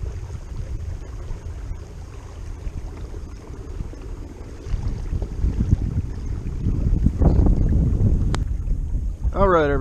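Wind gusts buffet the microphone on Prettyboy Reservoir during a kayak outing, a low rumbling roar that builds toward the end, with occasional water and paddle sounds beneath it.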